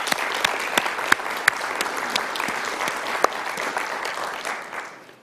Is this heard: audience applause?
yes